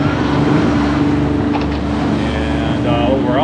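A sailboat's engine drones steadily while motoring all day into the wind, a continuous low rumble with wind and water noise over it, close and loud throughout.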